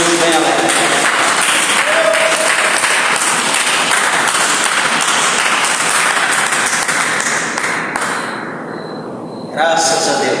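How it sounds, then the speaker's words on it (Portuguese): A church congregation claps together in sustained, dense applause that fills most of the moment, then fades out near the end before a brief swell of voices returns. "dê uma salva de palmas para Jesus nela."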